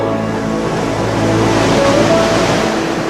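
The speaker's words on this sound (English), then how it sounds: "The constant surge of waves across the reef pound the coral into rubble" Ocean waves surge steadily across a coral reef on a coral cay, a loud, continuous broadband wash of surf with no pauses, mixed with a faint low tonal hum.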